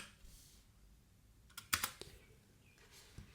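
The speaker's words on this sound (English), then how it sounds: "you can type out the name, let's say my first file" A file name typed on a computer keyboard: a short cluster of faint, close key clicks after a quiet pause, then a single soft tap.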